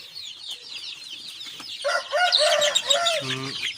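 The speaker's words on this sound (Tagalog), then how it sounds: "Kami yan mga boss, maraming manok dito sa amin." A flock of Shamo Aseel chickens in Ipil, Zamboanga Sibugay clucks busily nearby, overlapping calls rising and falling in a continuous chatter, with a brief deeper throaty call near the end.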